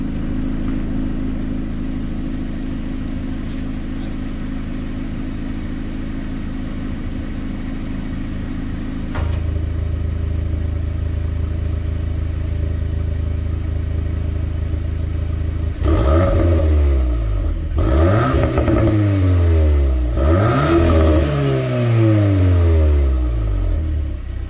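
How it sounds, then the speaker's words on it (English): VW MK8 Golf R engine in race mode, a steady idle that deepens, then several sharp revs rising and falling close by in the final seconds. "now I'm going to switch it into race mode so you can hear what it sounds like in race mode"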